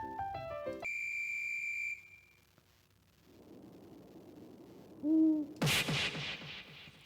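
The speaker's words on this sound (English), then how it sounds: "That was an owl." Owl hoots briefly in a video game, a short low hooting call partway through among other scattered game sounds, beeps and a sharp burst near the end, with no talking.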